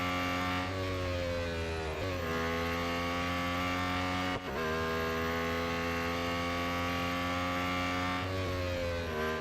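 A Lotus Emira GT4 race car in Real Racing 3 drones with a steady high-revving engine note, with a few brief dips and pitch shifts as gears change.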